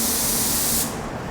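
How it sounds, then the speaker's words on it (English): A DV1 spray gun sprays white pearl base coat at around 13 to 14 PSI, a loud, close, steady hiss that cuts off after under a second. "Now this DV1 paint gun is the base coat gun, phenomenal gun."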